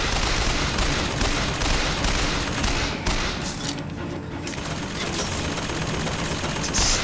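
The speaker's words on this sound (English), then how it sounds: "The turret killed one person." A turret machine gun in Bioshock Infinite fires in dense, continuous rattling bursts, loud and close, with a brief lull midway before the gunfire resumes, and no one speaking.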